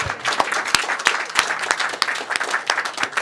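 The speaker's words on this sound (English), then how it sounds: "Let's give Naomi a round of applause." Applause from a breakfast media audience at a UN General Assembly dialogue on a TB high-level meeting, honouring Naomi: dense, steady clapping from a nearby crowd with sharp individual claps standing out, carrying on without a pause.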